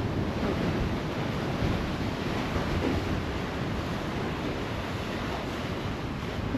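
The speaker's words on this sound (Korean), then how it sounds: "여기 파도가 이러면 저기 연금정 장난 아니거든요." Ocean waves surge and crash steadily on the shore at Sokcho, a continuous loud broadband roar with wind buffeting the microphone and no voices.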